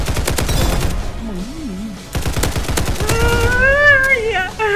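Video game gunfire in a shooting mode: rapid bursts of shots rattle loudly at the start and again midway, mixed with other game effects, including a warbling electronic tone.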